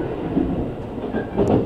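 A JR East limited express train running along the line, heard from inside the car as a steady low rumble with faint wheel clatter and no talk.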